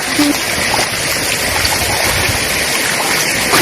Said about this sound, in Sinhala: යාළුවනේ මෙතන තමයි වැඩි වතුර යන්නේ.